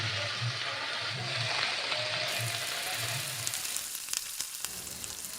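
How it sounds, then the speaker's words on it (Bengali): Spinach greens lightly frying in a pan with tempered spices, giving a steady close sizzle that thins later, with a few sharp stirring clinks near the end and no talk. "শাকটা হালকা করে ভেজে নিচ্ছি"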